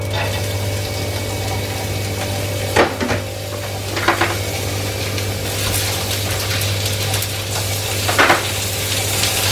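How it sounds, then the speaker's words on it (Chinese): Prawns fry in oil with a little minced garlic in a hotel suite kitchen. A steady, loud sizzle runs throughout, broken by a few sharp scrapes as the pan is stirred. "啲蝦咧就煎一煎佢先，然後再拌一拌。"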